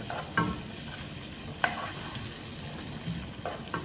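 Boiled macaroni is stirred in a hot, sizzling pan, soft scraping strokes and light clatter over a steady frying hiss, close up with no talking.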